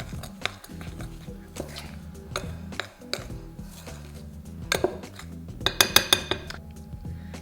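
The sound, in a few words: raisins dropping into a bowl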